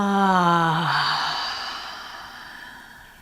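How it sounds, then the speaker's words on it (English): A single deep, slow inhalation through the mouth, a breathy, voiced rising draw close to the microphone that fades out over about three seconds. "As you breathe in, you make the sound."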